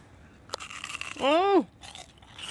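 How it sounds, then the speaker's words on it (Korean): Crisp bites into a double-fried fish cutlet, with a sharp crunch followed by a short voiced exclamation and lighter chewing crunches, close and fairly loud. "저도 한번 씹어 먹어보겠습니다."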